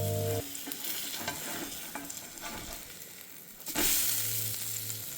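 A cauliflower steak sizzles steadily in a hot pan after being flipped and dusted with smoked paprika, with a few clanks and scrapes, the frying growing louder and fuller near the end.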